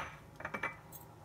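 A spoon stirs sugar into muffin batter in a bowl, giving a few quiet, soft clinks against the bowl in quick succession.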